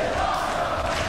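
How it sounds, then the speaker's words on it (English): A wrestling arena crowd chanting in the WWE 2K23 video game, a brief dense roar of many voices at moderate level. "A crowd chanting, this is awesome, because this is awesome"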